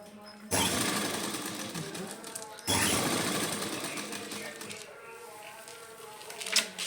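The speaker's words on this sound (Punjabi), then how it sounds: "ਬਿਲਕੁਲ ਨਾਲ ਨਾਲ ਸਲਾਈ ਲਗਾਵਾਂਗੇ" A sewing machine stitches beaded lace onto fabric in two loud, close bursts of rapid needle chatter, the second trailing off into quieter mechanical hum and a final knock.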